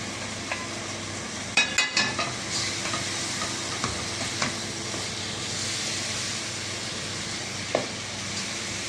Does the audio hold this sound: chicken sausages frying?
yes